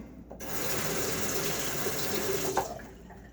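A tap runs steadily into a sink as a face is rinsed after a shave, a continuous close splashing wash that swells at the start and fades out near the end.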